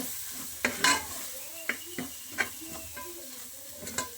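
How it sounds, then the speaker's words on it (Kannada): Turmeric and spices fry in a pan for a mutton biryani, a soft sizzle beneath a series of distinct scraping stirs from a spoon, spaced irregularly. "ಮಸಾಲೆ ಪದಾರ್ಥಗಳೆಲ್ಲ ಸ್ವಲ್ಪ ಹಸಿ ವಾಸನೆ ಹೋಗೋ ತನಕ ಫ್ರೈ ಮಾಡ್ಕೋಬೇಕು"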